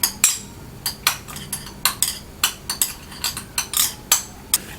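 A metal utensil clinks and scrapes against a wok as shrimp are tossed with salt and white pepper, with a quick, irregular series of sharp, close taps and clatters and no talking.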